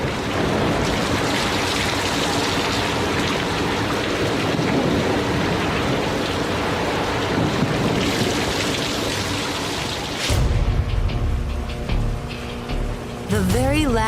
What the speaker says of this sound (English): it begins to rain heavily.